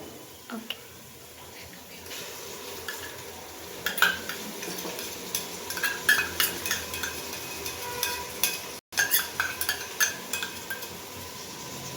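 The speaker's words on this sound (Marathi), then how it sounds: "आपण टाकतोय आता टमाट्याची प्युरी." Tomato puree goes into a pan and cooks with onion-garlic paste for a veg paneer biryani, giving a soft steady sizzle with repeated spoon scrapes and clinks against the pan, near and moderately quiet.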